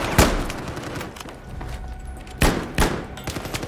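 Sharp, loud gunshots ring out in Battlefield 6, one near the start and then a close pair a couple of seconds later, over quieter background game noise.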